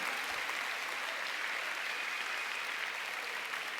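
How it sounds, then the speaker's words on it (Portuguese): A church congregation applauds steadily during an evening service, a dense wash of clapping that holds at an even level throughout without speech. "Pode aplaudir mais forte o Senhor, amém."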